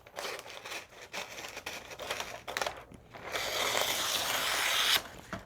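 Freezer paper is crinkled, torn and cut off a roll for a machine applique project, a close sequence of papery rustles and scrapes, then a long, louder tearing rip near the end, with no talk.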